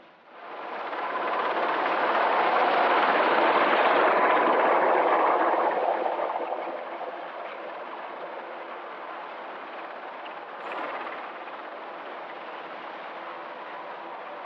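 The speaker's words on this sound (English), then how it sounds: "it looks like the helicopter is positioning to undertake a winch rescue of a casualty" A helicopter hovers close by in the Langdale Pikes, positioning for a winch rescue, a loud steady roar of rotor wash and engine that swells over the first seconds, then settles to a lower, continuous drone.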